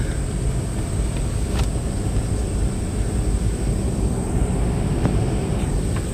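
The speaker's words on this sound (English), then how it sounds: "that's the engine." A Corvette's engine drones steadily through an open car window, a loud, continuous low rumble with wind-like broadband noise and a high whine, with no talking throughout.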